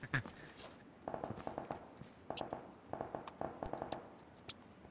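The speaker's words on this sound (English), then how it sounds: "Gunfire over here at this house" Scattered gunshots in the PUBG video game, sharp cracks coming in quick irregular bursts, fairly faint and distant-sounding, with brief pauses between volleys.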